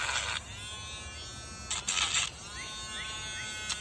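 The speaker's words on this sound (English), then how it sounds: "so now I gotta Dremel this again" A Dremel rotary tool cuts a plastic part for a quail feeder with a steady high-pitched buzzing whine, rising to louder bursts as the bit bites into the material, close-up with no speech.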